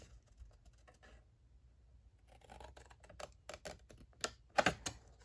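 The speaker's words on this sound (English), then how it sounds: "we are going to cut that little fold line up to there" Scissors snip along a paper fold line, a series of short crisp cuts that grow louder and quicken toward the end, close up and otherwise quiet.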